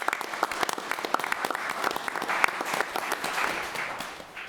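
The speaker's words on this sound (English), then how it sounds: "So I'd like to give Kedrick, Lauren, and the rest of the Finance Department a big round of applause" A round of applause at a city council meeting, with many hands clapping densely from a crowd; it stays steady for a few seconds and fades slightly at the end.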